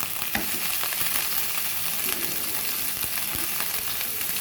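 Chicken coated in spices frying in a pan, a constant close sizzle with occasional knocks and scrapes from stirring, loud and unbroken.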